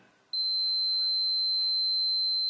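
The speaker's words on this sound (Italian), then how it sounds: "dovremo sentire questa cicalina che sta suonando" A digital multimeter's continuity buzzer starts as its two probes touch, a sharp high-pitched steady beep that holds unbroken and fairly loud over faint background noise.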